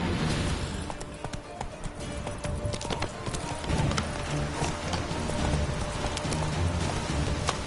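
Roach the horse galloping in The Witcher 3, a rapid run of hoofbeats with thuds and clatter at moderate level, alone without voices.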